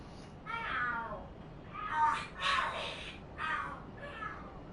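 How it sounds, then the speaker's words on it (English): Cats fighting and screaming in the video game Lost Judgment: several drawn-out, wavering yowls and caterwauls rise and fall in four or five bursts over a faint background. "Oh, are there cats fighting? What are they screaming for?"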